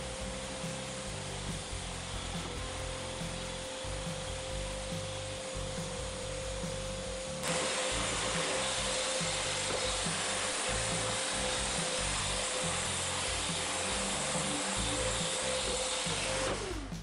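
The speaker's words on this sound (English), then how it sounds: "Then I sanded the whole thing, first with a 120 and then with a 240 paper to smooth the surface." Sandpaper scrubs steadily across a Corian and wood washing-stand deck, a close, continuous rasping hiss that grows slightly louder and brighter partway through, with no talking.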